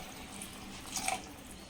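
Water poured into a pot of masala for a meat curry feast, a soft, brief trickling splash rising near the middle of the clip over faint kitchen background.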